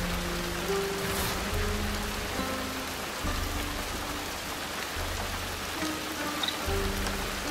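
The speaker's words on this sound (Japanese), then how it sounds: "雨はわしを止められんじゃ。" Steady rain falls in the video game Shadow Tactics, a dense even hiss of drops on surfaces with a low droning game score underneath and no speech.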